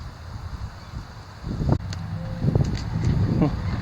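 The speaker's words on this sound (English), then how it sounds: "The wind's horrible." Wind buffeting a microphone outdoors, a steady low rumble that swells into heavier gusts partway through, with faint voices under it.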